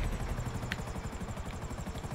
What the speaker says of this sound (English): He's right by my chopper.